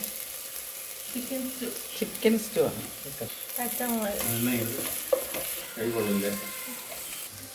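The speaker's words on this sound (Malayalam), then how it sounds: "ഇഞ്ചി സവാള എന്തായിരുന്നു വെളുത്തുള്ളി നന്നായിട്ട് വഴറ്റി വെക്കും" Ginger, onion and garlic sauté in a pan for a chicken stew, a steady sizzling hiss with occasional stirring scrapes while people talk over it.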